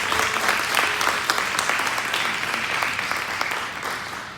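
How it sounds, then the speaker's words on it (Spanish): Loud, sustained applause from a church congregation during worship praise, dense clapping filling the whole stretch with a slight fade toward the end and no talk over it. "Dale nuevamente un fuerte aplauso al Señor en alabanza."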